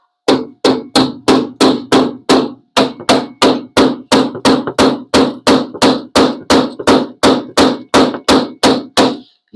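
A hammer pounds a welded-in sheet metal floor patch on a vehicle, about two dozen loud, evenly spaced metallic blows ringing close up with no talking.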